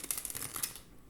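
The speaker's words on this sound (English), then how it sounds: "Now, I'm going to shuffle again." Tarot cards being shuffled by hand, a quick, faint riffle of crisp paper flicks lasting under a second before falling quiet.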